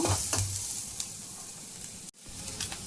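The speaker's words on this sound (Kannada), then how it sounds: "ಚೆನ್ನಾಗಿ ಫ್ರೈ ಆಗಬೇಕು." Spices for a curd curry frying in a pan, a close, steady hiss of hot oil that briefly cuts out near the end before resuming.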